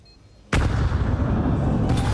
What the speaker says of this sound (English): brutal set of util to force Device out into the open